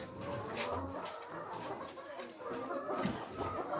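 Several free-range chickens at a poultry farm cluck and murmur nearby in short, overlapping bursts, the sounds of a busy flock.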